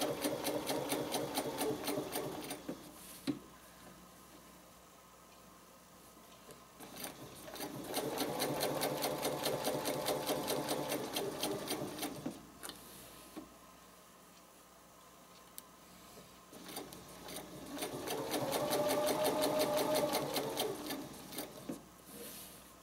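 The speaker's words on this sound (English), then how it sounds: "So now I'm going to stitch." Sewing machine stitching a spider web quilting project, running in three long steady bursts of rapid needle chatter with quieter pauses between, close and clear with no talk.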